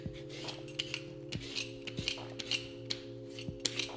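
A vegetable peeler scrapes the skin off a whole eggplant in short, repeated strokes, some crisp and some rasping, close up over a steady low electrical hum.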